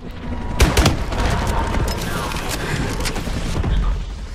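A missile strike detonates in Call of Duty: Advanced Warfare, a loud boom followed by a dense, rolling spread of blasts and debris that holds steady for several seconds amid busy game noise.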